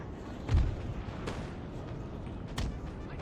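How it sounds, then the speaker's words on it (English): Artillery firing canister shot in the Napoleon: Total War video game, heard as two or three distant, muffled booms spread over a few seconds against a low background rumble. "Artillery reporting. Canister shot."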